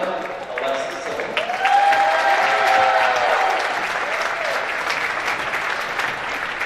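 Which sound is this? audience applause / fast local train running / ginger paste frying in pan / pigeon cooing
audience applause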